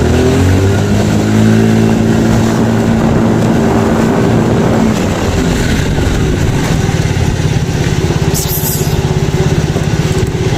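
A motorcycle engine drones loudly and steadily under strain climbing a hill, a continuous low throbbing that holds its pitch as it climbs.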